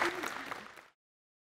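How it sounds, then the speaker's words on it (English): Tryout participants at an open local tryout clap together in a short, dense burst of applause with some voices mixed in, stopping abruptly after under a second. "Give yourselves a round of applause."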